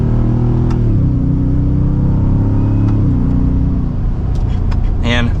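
A 2023 Ford F-150 Raptor R pickup in sport mode accelerates from second gear with a loud, close engine roar that climbs steadily in pitch, drops briefly at a gear change, then pulls hard again.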